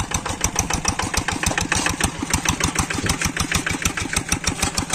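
A small engine on a plowing machine runs in a dry rice paddy, with a steady, rapid, chugging beat that stays close and loud, no voices over it.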